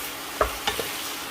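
Prawns cook over a medium flame with a soft continuous sizzle, broken by two or three quick scraping stirs close by.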